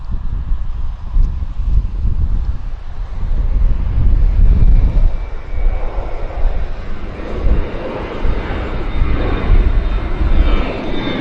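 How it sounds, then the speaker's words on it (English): Air Canada flight 100 to Toronto lifts off from the runway at Vancouver Airport, its engines a loud, sustained roar that swells and fades against gusty wind buffeting the microphone. "Lift off. This is the Air Canada 100 heading to Toronto."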